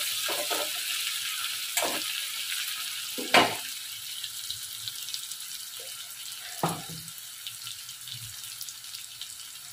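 Onions browning in hot oil with cumin and dried chilli give a steady, close sizzle, broken by a few sharp knocks and scrapes of a stirring utensil against the pan, with no voices.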